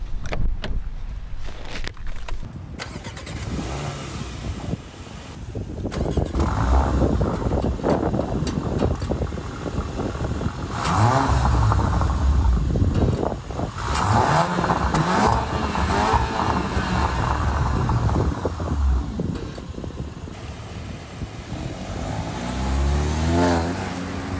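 A brand-new 2024 Porsche Macan with about 2,500 miles pulls away on the road, its engine revving and building into a sustained, loud drone with wind and road rush inside the cabin, and no one talking.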